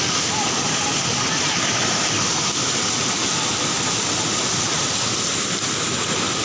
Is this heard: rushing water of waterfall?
yes